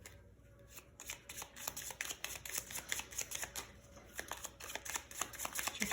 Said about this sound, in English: time to shuffle our cards